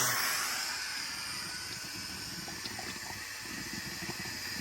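Compressed air forces the last water out of the lines of a Forest River Sunseeker RV during winterizing, a steady hiss with gurgling, sputtering water that slowly fades, heard close with no talking.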